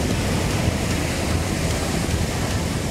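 Ocean waves at Itapuã beach in Salvador, Bahia, make a steady, loud roar mixed with gusty wind buffeting the microphone, with no clear breaks between surges.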